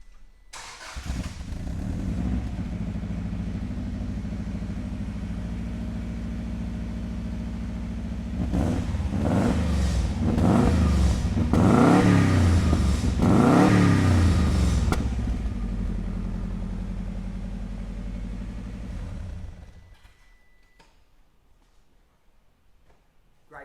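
A 1994 Subaru Impreza WRX STi Version 1 engine cranks and fires, idles steadily up close, then rises through several sharp revs in quick succession before settling and cutting off.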